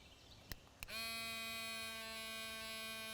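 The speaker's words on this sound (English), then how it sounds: "You could use an electric toothbrush for that." An electric toothbrush buzzes steadily against a garden flower to shake loose pollen, switching on after a couple of soft taps and holding a close, even, strongly harmonic drone to the end, with no talking.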